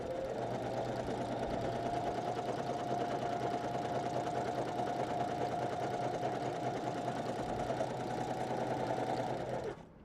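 Janome 500 or 721 sewing machine running fast while sewing tiny sample stitches, a steady close whir with rapid needle chatter that holds evenly for ten seconds and then cuts off.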